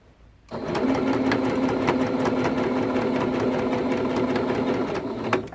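A sewing machine runs steadily for about five seconds, stitching down the binding along a quilt edge, with a constant close motor hum and no talking.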